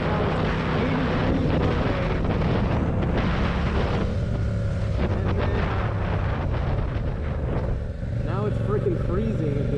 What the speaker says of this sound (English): Yeah, it's a little windy.